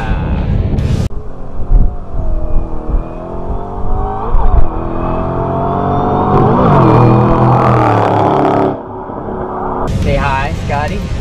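A Ford Mustang GT500 engine hums and rises through a couple of smooth accelerations from inside the cabin on a drive in Henderson, Nevada, heard under close talking voices.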